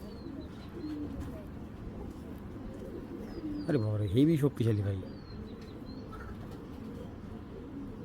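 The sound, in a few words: racing pigeon cooing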